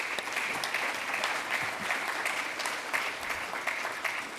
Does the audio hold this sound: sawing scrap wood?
no